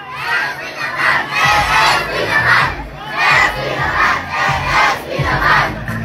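A lively crowd roars and shouts at a political rally in Manila, voices swelling in repeated waves of cheering that stay loud and dense throughout, with no clear speech standing out.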